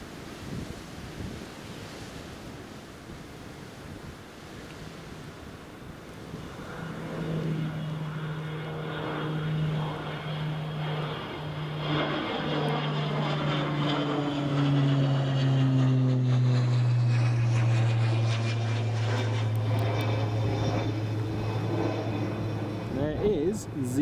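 A KLM airliner passes overhead at Newcastle Airport in gusty crosswind, its engine roar slowly building and swelling into a loud, close rumble with a falling whine, under wind buffeting on the microphone.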